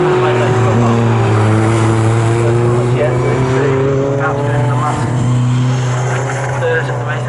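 Racing cars lap Snetterton circuit in a championship race, their engines droning loud and steady with shifting pitch as they pass, while a commentator talks continuously over the noise.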